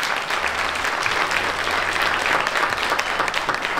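An audience at a Bulgarian kindergarten celebration claps continuously at a steady level throughout, with dense and even applause and no voices standing out.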